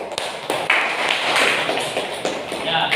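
Classroom applause from a group of students, a steady patter of many hands clapping at close range for about three seconds, with no clear talk over it.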